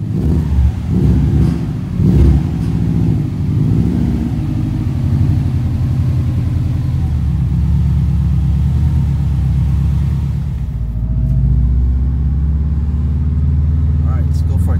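A Subaru STI with Brembo brakes on a test drive, its engine rumbling low and steady from inside the cabin, swelling slightly with acceleration near the start and settling into a smooth drone, with a voice talking over it.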